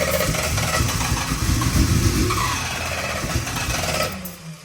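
An OG X275 engine cranks and catches, then settles into a rough, loud idle with a rumbling low drone, close up, fading slightly near the end.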